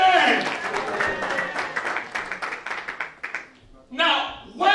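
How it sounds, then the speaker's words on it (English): A church congregation claps in a quick, irregular patter that thins out, then resumes, while voices call out over it. "If you want to clap, clap now."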